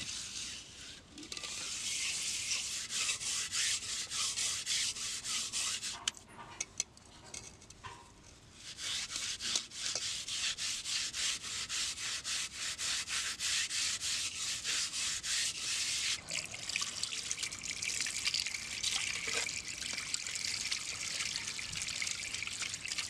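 Steady scrubbing of a clay cooking pot, blackened on the outside from use over a wood-fire stove, rubbed with cow dung and ash, with rasping strokes and trickling water running continuously and close up, broken by a short pause.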